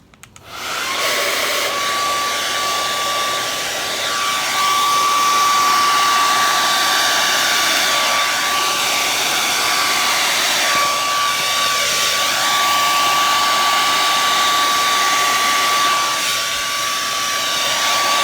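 A hair dryer blows across a wet acrylic pour painting with a loud, continuous close-up whoosh and a steady whine, running without a break after a brief quiet start.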